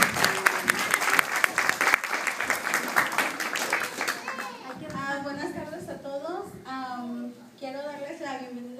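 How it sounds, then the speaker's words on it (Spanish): A burst of dense applause rings out for a few seconds at a quinceañera party, then fades as voices take over. "a ver esas palmas, que se oigan, señoras y señores"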